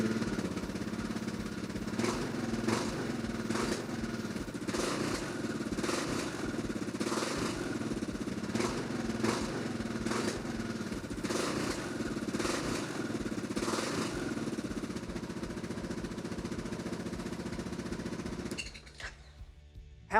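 Kawasaki KLR 650 motorcycle with standard header and Stay in Tune muffler idles and blips, a thumping single-cylinder exhaust with rhythmic revs rising and falling, fairly close, cutting off near the end.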